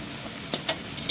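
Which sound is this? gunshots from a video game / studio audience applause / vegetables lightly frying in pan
vegetables lightly frying in pan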